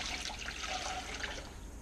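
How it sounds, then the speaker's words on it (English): Warm water pours into a Cuisinart mixer bowl in a short, steady, close-up rush of liquid with no one talking. "And I'm going to be adding the water into it"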